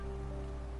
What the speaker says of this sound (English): I so love the sound of rain upon glass.